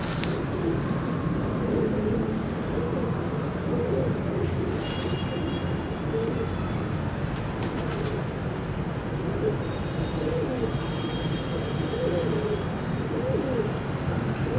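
Breeder pigeons cooing softly and continuously in a loft, a low murmuring warble with faint higher chirps, moderately distant and without talk.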